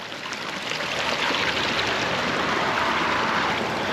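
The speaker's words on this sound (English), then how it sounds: "There's also a nice little freshwater stream here" A small freshwater stream running steadily, a continuous close trickling wash of even loudness with no talk over it.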